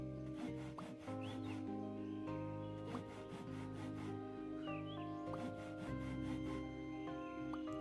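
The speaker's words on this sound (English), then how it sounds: "Yes, do the sawing." Repeated rasping strokes of wood being sawn in the beekeeping crafting game APICO, steady and rhythmic over a bed of game music with bright melodic tones.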